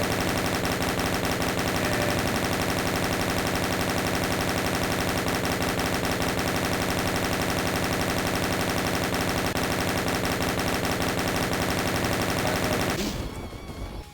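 Continuous rapid automatic gunfire from a Counter-Strike-style DOOM/Zandronum game mod, a loud unbroken rattle for over twelve seconds that stops abruptly near the end.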